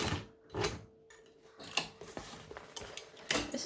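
A sewing machine works its way over a thick seam on a handbag, giving irregular mechanical bursts with clunks and ratcheting clicks between quieter pauses, close up and uneven as it pushes through the bulky fabric.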